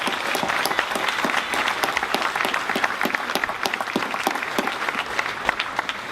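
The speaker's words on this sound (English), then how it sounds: "a round of applause for Dominic Breazeale and Anthony Joshua" Applause for two heavyweight boxers at a final press conference, a room of people clapping steadily with crisp individual claps standing out, continuing for about six seconds without speech.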